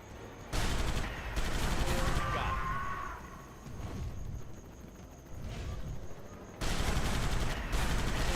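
Bursts of rapid gunfire in the rail-shooter arcade game Jurassic Park: Arcade, loud rattling volleys that start, drop to quieter scattered shots mid-way, then return in a heavy burst near the end.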